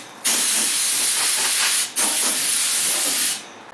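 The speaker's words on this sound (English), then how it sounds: "So now let's just blow these away with compressed air." Compressed air blasts out of a freshly drilled hole where a broken bolt was removed, making two loud, steady hissing bursts with a short break between them and no talking.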